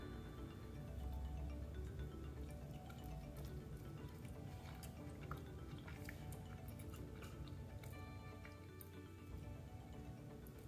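Someone chews a World's Best Dough peach cobbler pie cookie close to the microphone, a string of soft, moist crunches and squishes with small clicks, with no talking.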